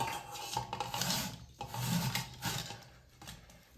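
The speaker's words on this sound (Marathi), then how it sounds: "आता आपण बटाटे खिसून घेणार आहे।" Potatoes rubbed against a large-hole grater for village-style sabudana potato papad, giving close, continuous rasping strokes in an uneven rhythm, with no one talking.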